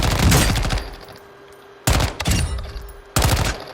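Rapid bursts of submachine gun fire ring out at a video game firing range, three loud, close strings of shots separated by short pauses.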